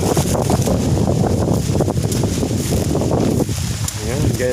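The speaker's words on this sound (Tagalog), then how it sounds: "Ang lakas po ng hangin." Strong wind on a mountain buffets the microphone in loud continuous gusts, with a person talking briefly near the end.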